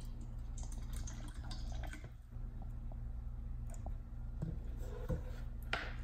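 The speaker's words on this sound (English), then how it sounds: "Let's pour some water in." Distilled water is poured into a container in a quiet room, a faint, soft trickle and splash with a low background hum and no voices.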